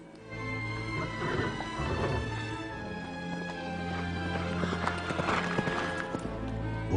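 A horse gallops with rapid rhythmic clip-clop hooves throughout, loud and close, with whinnying and neighs breaking in near the end.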